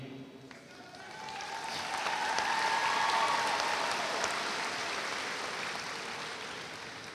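A graduating class draws applause from the audience at the Sheridan High School 2023 graduation ceremony. The dense, sustained clapping swells to a loud peak mid-way and then tapers slightly without fading out.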